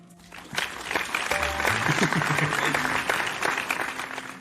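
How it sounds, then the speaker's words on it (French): Guests at a company gathering clap for a state councillor present in the room, a moderate burst of applause swelling after a quiet start, with faint tones and murmuring underneath. "max d'applaudissements pour Oscar ici présent"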